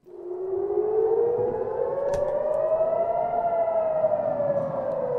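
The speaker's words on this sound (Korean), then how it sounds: "테라비브에는 공습 사이렌이 쉴 새 없이 울리고 있으며" Air raid sirens wail over Tel Aviv during a missile attack, a loud, sustained civil defense siren with a slowly rising pitch that holds steady for the whole stretch, heard alone.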